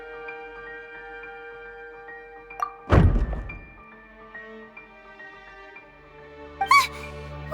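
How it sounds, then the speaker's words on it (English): In the Genshin Impact video game, a decoration is knocked over with a single loud thud over quiet sustained background music, followed by a few faint small knocks and a brief chime. "I seem to have accidentally knocked over a decoration"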